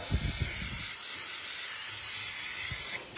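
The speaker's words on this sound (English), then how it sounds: "spray it on" A steady, close hiss of spraying liquid runs almost without a break for about three seconds, then cuts off briefly near the end.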